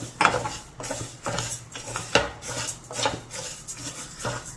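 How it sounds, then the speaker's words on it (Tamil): Lentils and rice being dry-roasted in a pan, with a utensil repeatedly scraping and stirring against the metal in uneven strokes, close and fairly quiet, with a low steady hum in the background. "இது லைட்டாக சூடு ஏறினதுக்கப்புறம் இந்த அரிசியும் கொஞ்சம் வறுத்துக்கலாம்."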